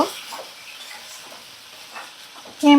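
A spoon stirs ginger-garlic paste and cumin paste with spices in a pan: soft scraping and faint sizzling close by, steady and quiet, ending in a sharp, louder clank of utensil on pan.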